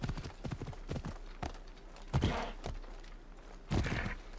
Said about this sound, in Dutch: Waar dat paard weer zijn eigen loopmaniertjes heeft